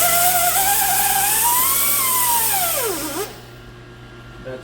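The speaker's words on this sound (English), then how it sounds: "I use a roll-off sanding disc to clean the groove" A roll-off sanding disc on a power tool whirs steadily while cleaning the snap ring groove in a 2008 Ford Fusion AWD rear wheel bearing bore, its pitch sagging under load before the tool cuts off.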